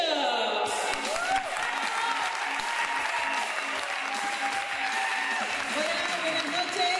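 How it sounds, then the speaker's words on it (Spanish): Loud, continuous applause from a theatre audience welcoming performers at a women's tribute show, dense clapping mixed with crowd cheering that holds steady the whole time. "recibamos con un fuerte aplauso a Simplemente"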